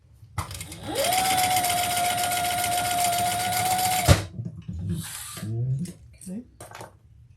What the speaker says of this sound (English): we're going to sew that with a 1/4 inch seam allowance